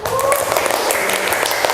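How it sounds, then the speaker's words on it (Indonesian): A group applauds during a teacher-training performance session, brisk dense clapping close and loud, with a voice faintly audible beneath it. "kita kasih tepuk tangan yang semeriah-meriahnya buat kita semua hari ini"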